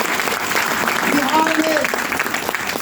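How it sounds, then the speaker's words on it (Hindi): Audience applause at a Patna DXN business meeting, a brief burst of clapping from a crowd with some voices mixed in, steady and moderately loud for a few seconds. "एक जोरदार ताली होनी चाहिए"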